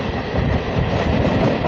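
Kanchenjunga Express overtaking a Rampurhat–Bardhaman MEMU local near Bardhaman, heard from aboard as a loud, close, continuous roar of rolling wheels and rattling carriages with steady rhythmic clatter.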